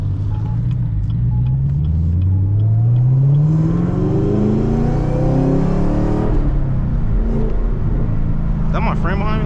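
A Camaro ZL1 with a six-speed manual revs and pulls hard from inside the cabin, its loud engine note sweeping up through gears with downshift blips and a whining supercharger, continuous and close.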